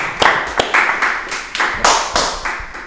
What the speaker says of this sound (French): je propose que toute l'équipe qui a les mains disponibles applaudisse maintenant Sanjos